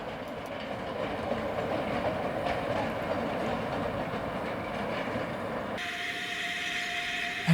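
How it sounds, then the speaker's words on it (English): A small quarry Hunslet steam locomotive on the Ffestiniog Railway hauls a goods train toward Porthmadog, a steady rumbling roll with faint clatter running throughout, then a sustained high squeal or whistle-like tone enters near the end. "Britomart, a small quarry Hunslet taking a goods train back to Porthmadog"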